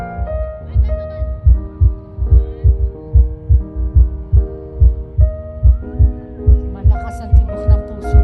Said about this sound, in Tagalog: Malakas ang tibok ng puso ko.